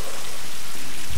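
Steady, dense rain pours down in the Tomb Raider video game, a loud, close, continuous hiss of falling water with no voices over it.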